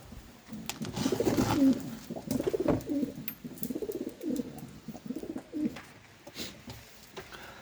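A feather-footed wild pigeon coos close by in a steady run of soft, low, rolling phrases. Faint rustling and handling noises sit underneath, and no one speaks.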